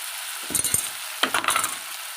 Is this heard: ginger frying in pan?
yes